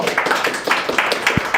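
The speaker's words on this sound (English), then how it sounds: "A little round of applause" An audience at a New York tech meetup gives a brief round of applause after a talk, a short, fairly close patter of clapping hands with uneven bursts.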